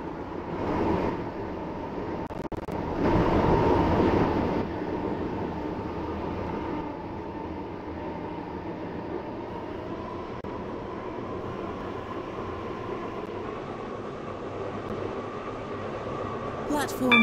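A steady low rumble and hum of a moving train carriage in a video game continues throughout, with a platform announcement over it.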